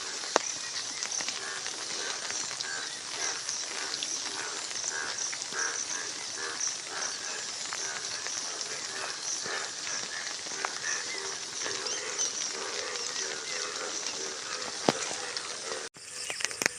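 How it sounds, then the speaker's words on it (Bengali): Rain falling steadily over a village pond and fields, a dense, even hiss that holds at one level throughout with no voices. "আজকে মোটামুটি বৃষ্টি হচ্ছে"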